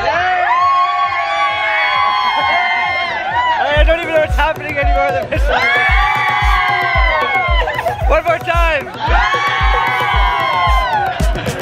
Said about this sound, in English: They just started screaming.